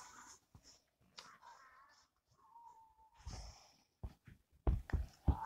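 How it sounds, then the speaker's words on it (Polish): A pet dog breathes, snorts and whimpers close by, with short nasal huffs and a thin whine, then louder snuffling bursts toward the end; no speech. "Mój piesek."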